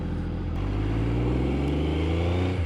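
Triumph Daytona 900 Triple motorcycle engine revving close by, a deep throbbing idle that climbs sharply after a moment into a sustained, rising rev, loud and steady with no talking.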